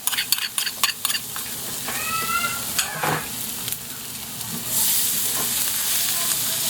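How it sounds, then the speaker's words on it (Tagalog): Garlic sizzles steadily in melted butter in a pan for a kaldereta sauce, with a spoon clinking against the pan at first, then a louder hiss later. "ibalan po natin ng bahagya ang bawang para medyo garlicky ang lasa niya"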